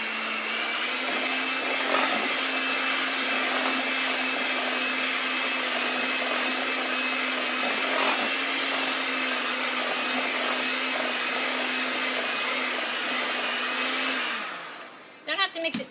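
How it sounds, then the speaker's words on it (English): A handheld electric mixer beats honey, vanilla and sunflower seed butter with a steady, loud whine for about fourteen seconds, then switches off, followed by a few clunks. "So I got my mixer ready to go. And I'm just gonna mix that"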